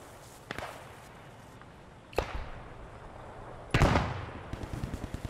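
Explosions in the World War II shooter game Squad 44: three sharp, distant-sounding blasts spaced about a second and a half apart, each followed by a rumbling decay, with the last one loudest.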